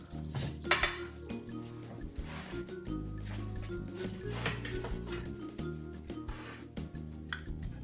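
Loaves of pecorino and prosciutto bread are set onto a metal cooling rack with scattered clinks, clatters and soft knocks. The sounds are close and fairly quiet over faint background noise.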